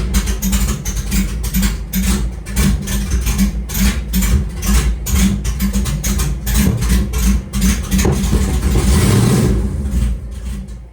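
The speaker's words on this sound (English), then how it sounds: "by giving it a little bit of throttle, you're going to be able to start the car" A car fitted with a Holley EFI throttle body setup cranks and fires, then idles roughly with repeated throttle blips and a rising rev near the end, loud and close with no talking.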